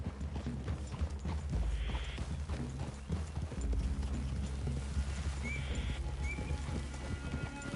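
Horse hooves in Red Dead Redemption 2 clip-clop in a steady, uneven rhythm on hard ground, close by, with a brief whinny and faint rustling in the background.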